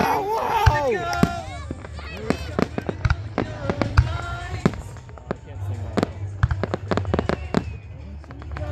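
Fireworks exploding in Idaho, with rapid sharp bangs and crackles bursting throughout, some loud and near, over music and excited voices in a crowd.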